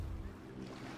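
A jet ski engine drones steadily over the wash and splash of water in GTA 5, a continuous rushing, windy roar with no voices.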